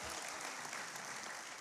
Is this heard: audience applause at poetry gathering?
yes